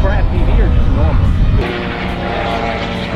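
A small FPV radio-controlled airplane with a vector flight controller passes overhead, its motor whine sweeping up and down in pitch, then settling into a steadier buzz, loud and close, with voices nearby.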